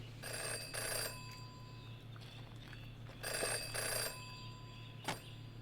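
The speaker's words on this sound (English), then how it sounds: "Phone's ringing for you." A phone rings in the Jenny LeClue video game, two long electronic bell bursts spaced a few seconds apart, clear and alone over a steady low background hum.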